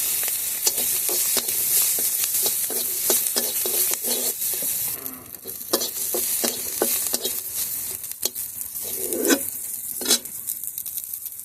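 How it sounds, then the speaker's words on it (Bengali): Local garlic frying in a pan gives a steady loud sizzle, broken by regular scraping strokes of a spatula stirring it, with no talking. "কিছুটা দেশি রসুন দিয়ে ভেজে নেবো"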